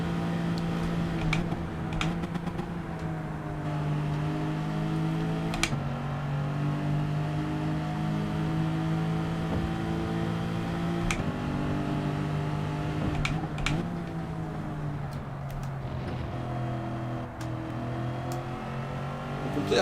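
A race car on soft tyres laps a track in Gran Turismo 7, its engine droning steadily with pitch rising and falling through gear shifts and corners, loud and continuous with no talk.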